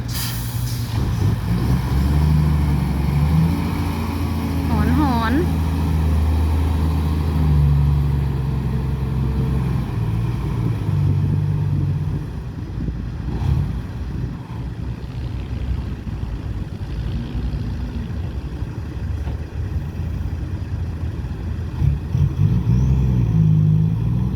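Vehicle engines labour and rev through thick mud after a rainstorm, a loud, continuous low rumble with rising and falling revs, closer and heavier in the first half, then a rougher churning drone.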